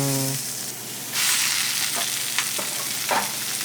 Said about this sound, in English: That's the sizzle you want, dude.